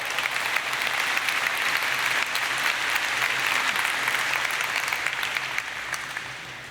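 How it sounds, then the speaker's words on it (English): A large audience at a Christian talk breaks into steady, sustained applause that stays dense and even for about seven seconds, tapering slightly at the very end, with no voices over it. "That's worth applauding."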